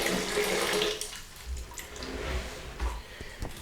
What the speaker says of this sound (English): you want to get some warm to hot, not too hot, but pretty warm water